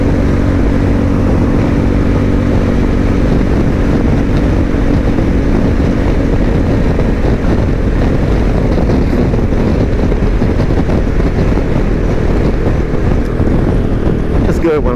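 A Suzuki V-Strom motorcycle riding on backroads, a steady loud engine drone mixed with heavy wind rush on the microphone, continuous throughout without a break.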